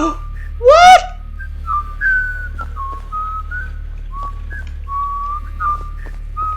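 In a Sparky Marky video game, a loud rising whistle rings out once, followed by a series of short, faint whistled tones over a steady low hum.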